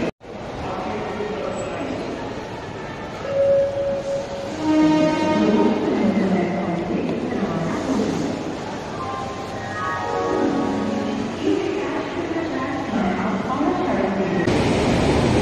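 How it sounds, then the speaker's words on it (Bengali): Busy platform at Howrah Junction railway station with trains nearby, a continuous loud crowd of voices and station bustle throughout, with rail noise blended underneath. "আমরা 12 নম্বর প্ল্যাটফর্মে চলে যাচ্ছি।"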